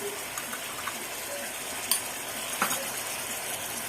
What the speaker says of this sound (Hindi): अब इसको अच्छे से मिक्स करते हैं।